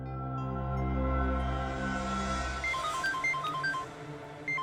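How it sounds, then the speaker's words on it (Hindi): A phone rings in a tense indoor TV crime-drama scene, starting with a low sustained drone and then a string of short, bright ringtone beeps repeating at a steady pace, clear and fairly loud, with no voices. "उसी का फोन है।"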